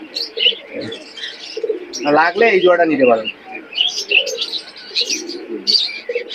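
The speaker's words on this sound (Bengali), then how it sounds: "দেখেন কবুতর দুইটা দেখেন, আর কতটা সুন্দর" Pigeons at a large pigeon market in Khulna, including a pair of Rampuri birds, cooing and chirping close by in short repeated bursts while someone speaks over them.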